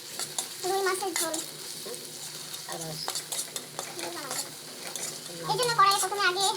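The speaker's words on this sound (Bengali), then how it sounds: "কড়াইয়ে প্রথমে আগে তেল প্রথমে দিয়েছি, তারপর ওখানে পেঁয়াজ কুচি করে কাটা রাখা ছিল সেগুলো ঢেলে দিয়ে একটু ব্রাউন করে নিব" Chopped onions fry in hot oil in a wok for a rohu fish curry with drumsticks, giving a steady close sizzle broken by scraping, clattering stirs of a spatula. Voice-like tones also sound through the frying.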